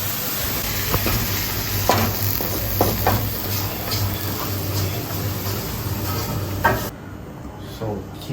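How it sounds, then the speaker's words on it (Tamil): Mustard greens and stems sautéing in a pan, with a steady low sizzle, occasional utensil scrapes and stirring clatters close by, easing off near the end. "கடுகு தண்டை போட்டு நல்லா பரட்டி எடுத்து வச்சு இப்போ வந்து கடுகு கீரை வந்து நம்ம ஆட் பண்ண போகிறோம்."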